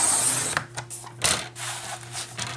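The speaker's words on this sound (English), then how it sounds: "So we'll go ahead with our trimmer." A paper trimmer slices through patterned card-making paper in a few short, close scraping strokes with small clicks and rubs between them, with no talk during the cutting.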